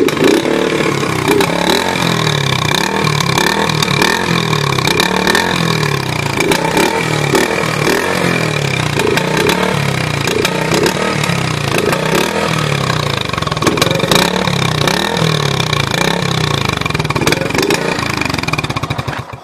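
A 1973 Honda SL70 motorcycle engine runs through an exhaust diffuser, a loud, steady, close putter at idle that stays even the whole time, with no talk over it.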